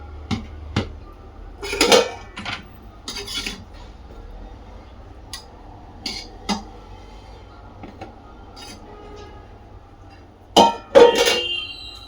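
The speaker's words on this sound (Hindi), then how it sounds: "तो यहाँ बेटे का टिफिन पैक कर रही हूँ मैं।" A child's tiffin lunch box being packed with aloo fry and puri: sparse, close clinks and clatters of containers, lids and utensils scattered over a quiet background, with a louder cluster of knocks near the end.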